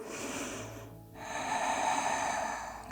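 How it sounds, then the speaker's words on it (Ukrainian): A deep nasal inhale during a yoga session, one long breath drawn in steadily, close and fairly soft, with a brief pause before it swells. "І заключний глибокий вдих."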